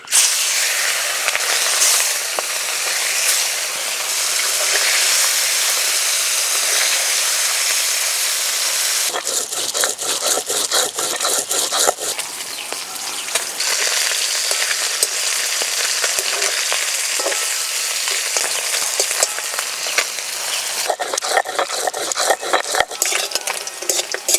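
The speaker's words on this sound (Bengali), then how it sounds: "পুঁটি মাছগুলোও ভেজে নেব" Small puti fish fry in hot oil with a loud, continuous hiss and sizzle, broken by bursts of rapid metal utensil scraping and clinks against the pan, close up with no talking.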